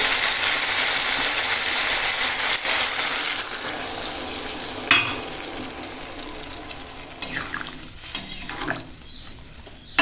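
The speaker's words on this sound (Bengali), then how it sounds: "এখন মিষ্টি কুমড়োটা কষানো হয়ে গেছে আর এখন দিয়ে দেব জল" Water poured onto sautéed pumpkin in a cooking pot, a loud continuous rushing splash that fills most of the stretch, with a few sharp clinks of a utensil toward the end.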